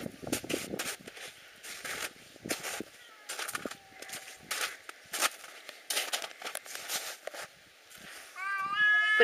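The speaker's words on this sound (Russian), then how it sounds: "Вон наш коты что-то не поделили." Two village cats, a house cat and the neighbour's ginger tom, scuffle outdoors in spring with repeated yowls and growls in bursts, close and loud, ending in a drawn-out rising wail, with rustling movement between cries.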